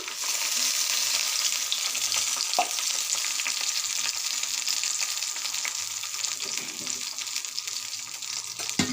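Ginger, garlic and onion frying in oil with cardamom and cinnamon, a close, steady hissing sizzle throughout with occasional soft utensil knocks against the pan.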